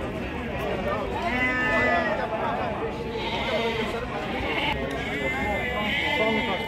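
Sheep and goats bleat repeatedly at a crowded livestock market in Ganja, with overlapping calls near and far over constant crowd chatter and voices.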